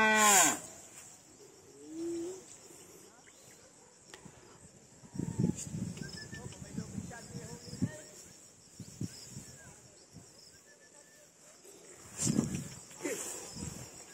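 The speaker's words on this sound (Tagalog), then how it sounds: "O baka." Cattle moo in an outdoor farm setting, with one drawn-out low call near the start, then rustling, scuffling and occasional further calls. Crickets or insects trill steadily in the background.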